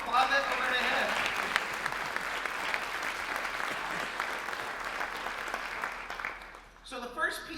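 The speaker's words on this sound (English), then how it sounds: "if you want to applaud that, go right ahead" Audience applause at a school district orchestra festival concert, a steady dense clapping from a large crowd that holds for about six seconds, then thins out and tapers into a few scattered claps and faint murmurs.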